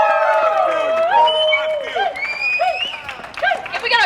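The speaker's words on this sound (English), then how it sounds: "If we got a bigger applause, please." Clapping and cheering from an audience at a community event, mixed with high, excited whoops and voices shouting over the applause at close range.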